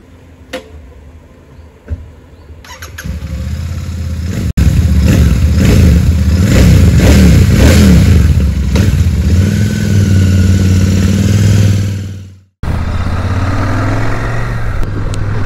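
Royal Enfield Super Meteor 650 Celestial motorcycle on a long ride, its engine rumbling steadily and rising as it accelerates, with wind noise, a brief dropout near the end, then steady riding resumes.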